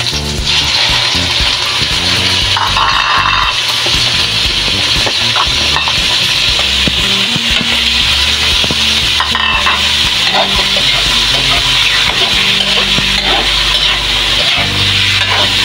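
Squid for adobong pusit fries in a loud, close, unbroken sizzle, with crackling spatters and occasional knocks of a utensil on the pan running the whole way through, and no voices.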